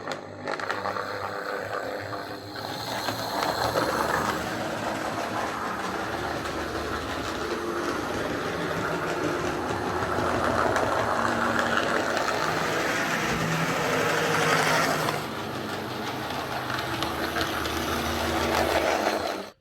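A Hornby R751 Class 37 model diesel locomotive, repaired after several faults, runs steadily around a model railway layout, its motor humming and wheels clicking along the track in a continuous, fairly close rumble with no talk.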